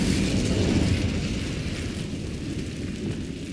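A fire spell is cast in the Hogwarts Legacy video game, giving a sustained, roaring whoosh of flame with heavy low rumble. It holds steady and loud for several seconds, with no talk over it.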